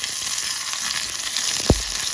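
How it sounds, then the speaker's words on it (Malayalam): Peanuts frying in ghee, a steady bright sizzle across the clip with a single low knock near the end, with no talking. "കുറച്ച് നെയ്യ് എടുത്ത് അതിനകത്തേക്ക് കുറച്ച് കപ്പലണ്ടി വറുത്ത് കോരുക"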